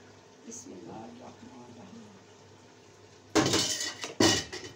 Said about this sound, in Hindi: ये देखिए इसके ऊपर मैं रख देती हूँ अब चावल उबलने के लिए